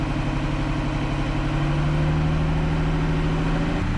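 A Massey Ferguson 3505 tractor engine runs steadily nearby, a continuous low rumbling drone with a slight pitch rise midway and no talk.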